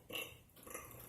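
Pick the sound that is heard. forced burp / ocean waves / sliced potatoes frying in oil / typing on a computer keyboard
forced burp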